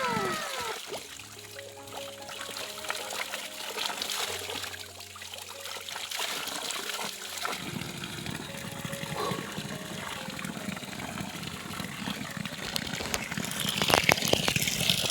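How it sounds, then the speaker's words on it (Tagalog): Strong, cold water gushes and splashes from a tap in an upland settlement, a continuous rushing stream with a low hum in the first half. "Ang lakas ng tubig guys,"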